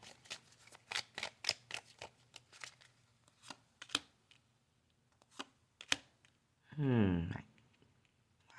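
Tarot cards are handled and shuffled up close, giving a series of crisp, irregular slaps and flicks that ends in a quick riffling burst. A brief murmur of speech can be heard.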